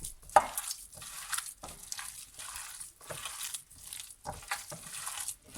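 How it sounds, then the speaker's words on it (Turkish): Hands kneading köfte dough in a bowl, soft rhythmic squishing and pressing strokes repeating steadily, close and fairly quiet, no talking. "Güzelce hamur köftemizi yoğuracağız."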